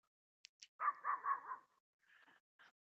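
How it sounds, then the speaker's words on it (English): A dog barks several times in a quick cluster, fairly close, with a few softer yips before and after, the whole sequence brief and without talk over it. "Sorry if you guys can hear the dogs barking."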